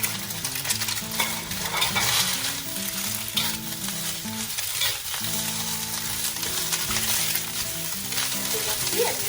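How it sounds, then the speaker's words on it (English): Egg fried rice stir-fried in a big wok gives a steady, continuous sizzle with stirring and scraping that stays loud and close from start to finish. "You can see I'm using a big wok, so it's easy to stir fry."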